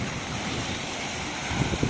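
Ocean waves and surf wash steadily along the shore of an island near Alaminos City, Pangasinan, a continuous broadband rush with wind buffeting the microphone and a few louder splashes near the end.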